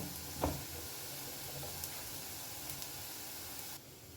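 Onions fry in a pan with a steady, soft sizzle and hiss, close and quiet. A single light clink sounds near the start, and the sizzle drops lower just before the end.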